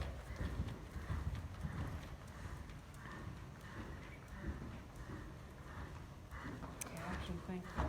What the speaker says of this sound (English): you can push him a little more forward in the canter too. That'll help. Little bit bigger canter.